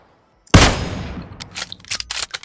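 Gunfire in PUBG Mobile starts with a sudden loud burst, followed by a run of quicker, lighter shots and impacts that crackle on irregularly for the next two seconds.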